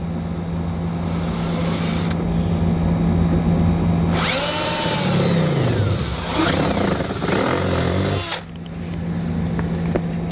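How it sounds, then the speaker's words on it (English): A power drill whirs loudly for a few seconds, its pitch dropping as it bites into a plastic dashboard of a 2016 GMC Sierra, then it stops, leaving steady background hum. "and drill our hole."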